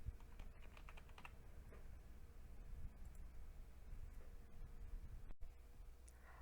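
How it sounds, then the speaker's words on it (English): A keyword typed on a computer keyboard for a library catalog search, faint scattered key clicks over a steady background hiss, with one sharper click near the end. "Type the keyword into the search bar and click search."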